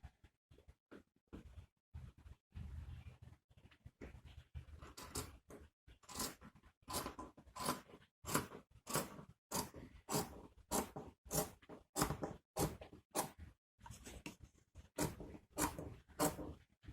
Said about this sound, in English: So I'm going to measure it out and then cut where it needs to be cut.